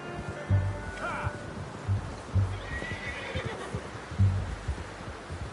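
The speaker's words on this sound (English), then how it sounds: "How's that new horse?" A horse in Red Dead Redemption 2 neighs twice, with a whinny near the start and another midway, while heavy hooves thud in an uneven clip-clop. Faint voices may sit underneath.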